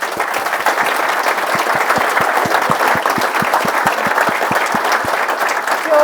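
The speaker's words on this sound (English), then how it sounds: "I don't know if everybody wants to give them a round of applause actually for putting on this day" Audience applause at a construction industry insight day, a steady round of clapping from a room full of people with distinct individual claps standing out near the front, continuous for the whole stretch.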